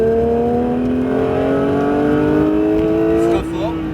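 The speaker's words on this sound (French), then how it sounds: "À gauche et accélère." A Porsche 911 GT3 accelerates hard on a race circuit, its engine note climbing steadily and loud up close with a brief dip near the end, while a voice talks over it.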